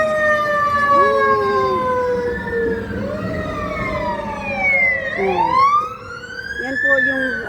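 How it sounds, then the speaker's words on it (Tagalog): A fire truck siren wails on 27th Avenue with loud, close, rising and falling sweeps that overlap and shift in pitch as the truck passes, over low street and traffic noise. "Ayun, ng fire truck."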